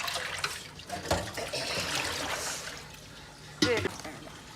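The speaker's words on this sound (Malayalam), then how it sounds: "വെള്ളം തിളച്ച് കിടക്കുകയാണ്" Water at a rolling boil in a pot on a home stove, a steady bubbling hiss with a few louder splashes or lid knocks, heard close up with no talk.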